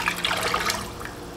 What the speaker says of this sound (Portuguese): mais um pouquinho de água filtrada aqui.